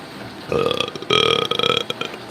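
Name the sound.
burp after drinking coffee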